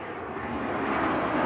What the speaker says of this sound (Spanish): Y ahí pasó el avión